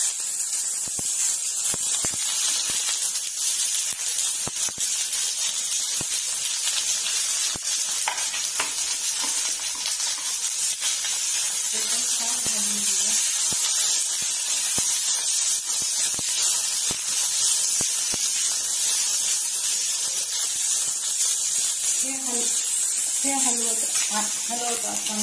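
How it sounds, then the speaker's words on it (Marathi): Chopped onion hisses and sizzles steadily in a hot pan for misal, a loud continuous frying noise with occasional stirring and a voice speaking in the background. "त्यानंतर त्याच्यामध्ये आपण हा जो कांदा कट केलेला आहे तो टाकून घेऊया"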